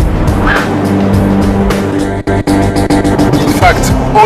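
A race car on a test track brakes hard, its loud engine note dropping through abrupt downshifts and sharp gaps, with tire noise and a close, continuous roar throughout.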